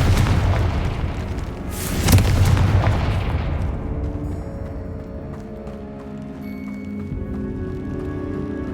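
A Confringo blasting spell bursts in Hogwarts Legacy on Xbox Series X, with a heavy booming blast, a second sharp crack about two seconds in and a rumbling tail that settles into quiet tonal in-game ambience.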